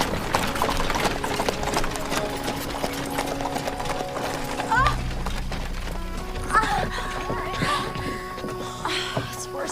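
A horse clip-clops along, hooves striking in a quick, steady rhythm near and clear, with a low rumble and other scene sounds mixed in, no talking.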